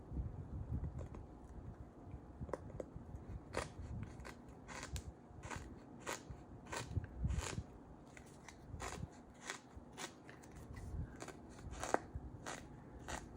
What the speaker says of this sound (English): Problem is the scissors don't cut the right way.